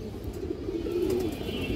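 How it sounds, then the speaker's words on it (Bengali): A large pigeon kept in a breeder's loft gives a low, soft, drawn-out coo near at hand, a brief murmuring call over a faint steady background, with no speech. "এই যে দেখেন কবুতরটা"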